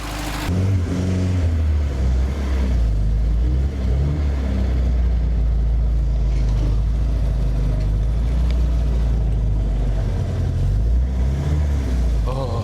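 A 1960 Triumph TR3A drives along with a steady, loud low engine rumble and some revving, with voices mixed faintly into the noise.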